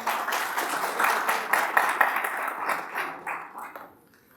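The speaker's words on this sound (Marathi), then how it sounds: "सगळ्यांनी एकदा जोरदार टाळ्या वाजवा" An audience claps at a Marathi public lecture event. The applause is dense and steady, then thins out and fades toward the end, with no talking over it.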